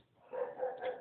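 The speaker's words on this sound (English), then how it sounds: "sorry about my dogs" Dogs bark in a quick run of three soft, muffled barks, faint and somewhat distant indoors, with no talking during them.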